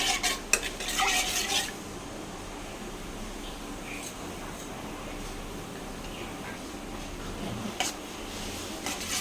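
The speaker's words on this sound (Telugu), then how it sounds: "అదే ప్యాన్ పెట్టుకొని అందులో ఆయిల్ వేసుకొని వేడి చేసుకున్నాము. ఇప్పుడు ఇందులో ఆవాలు, జీలకర్ర వేసుకున్నాము." Mustard seeds and cumin in hot oil in a pan give a soft, steady sizzle, with a few spoon clinks and stirring scrapes at the start and end, close by and without talk.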